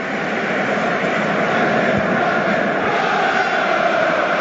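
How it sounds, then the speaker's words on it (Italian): A stadium crowd of Inter supporters in the Curva Nord at San Siro chants for former player Goran Pandev during an Inter vs Genoa football match, a dense, steady, loud roar of many voices with no break throughout. "Sentite addirittura il coro per Pandev da parte della Nord."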